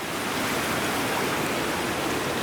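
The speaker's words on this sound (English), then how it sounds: "Right next to the creek, too." Water rushing steadily along a creek beside a narrow trail hugging a cliff, a dense unbroken wash of flowing noise, close and constant with no voices.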